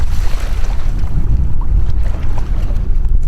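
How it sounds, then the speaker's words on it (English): Rough wind buffets across open water from a fishing boat out after summer stripers, a steady loud roar and rumble with constant microphone gusting and no talk. "The wind is getting rougher, not better."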